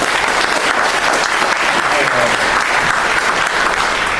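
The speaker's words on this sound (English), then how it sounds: "Give yourself a round of applause." Audience applause at a political symposium, steady dense clapping from a large crowd that holds at full volume throughout without a break.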